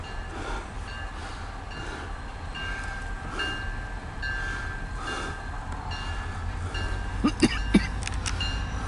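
A CSX local freight train of 56 axles rolls past steadily at moderate loudness, a continuous rumble with faint squeals, and a few sharp metallic clanks near the end.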